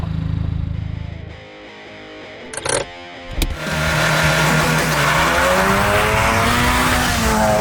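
Modified Honda Fit GK5 tuner car driving hard, engine loud and revving up through the gears with a brief tire squeal and gearshift pause midway, the exhaust droning close throughout.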